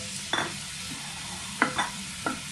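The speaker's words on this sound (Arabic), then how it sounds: "هنا انا درت الزيت تسخنات، اول حاجه غنبدا بها هي البصله، غادي نشحرها مزيان" Onion frying in heated oil in a home kitchen while preparing a budget paella, a low steady sizzle under a few brief stirring scrapes and clinks, close by with no talking.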